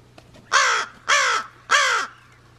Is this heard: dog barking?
no